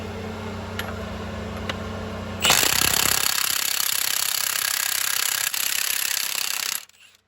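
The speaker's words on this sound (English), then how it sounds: "So we have an impact gun here." An impact gun hammers at the harmonic balancer bolt on a 2005–2008 Pontiac Grand Prix GXP, with the bolt already heated. After a quiet start, there is a loud, rapid rattling burst lasting about four seconds, then it stops abruptly.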